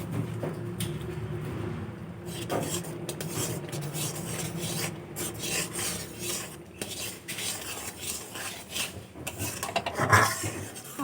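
A spoon stirs raw mango pulp mixed with food colour as it cooks in a pan, with steady close scraping and clinking against the metal throughout.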